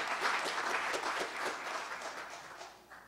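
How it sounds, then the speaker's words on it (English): A church congregation applauds during a Sunday youth service, steady dense clapping from many hands that holds for a few seconds and then thins and fades at the end. "I'm glad that y'all clapping for him"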